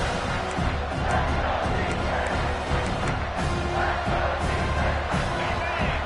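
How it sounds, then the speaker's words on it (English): A big stadium crowd roars at a college football game as the defense lines up near the goal line, a dense, steady wash of cheering and noise with no break. "this big crowd doing everything possible to inspire this defense down here near the goal line"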